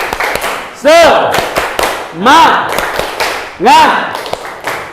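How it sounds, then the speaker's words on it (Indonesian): A classroom group claps the rhythmic tepuk semangat pattern in sharp, quick bursts, loud and close, interleaved with voices calling out. "Bagaimana tepuk semangatnya? Tepuk semangat."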